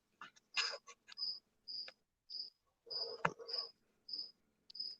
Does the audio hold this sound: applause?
no